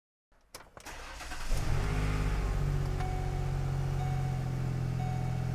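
A 2008 Ford Explorer engine with a newly replaced exhaust system turns over and settles into a steady, throaty idle with a deep rumble, close by and loud, no voices.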